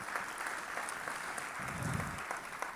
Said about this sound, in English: Hey, another round of applause